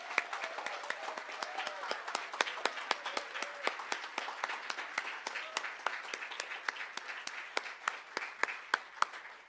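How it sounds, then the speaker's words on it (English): An audience at a lecture breaks into steady applause to welcome the lecturer, many hands clapping at a moderate distance with sharp individual claps standing out, and a few voices faintly underneath. "Let's welcome her with a warm and loud Chicano applause."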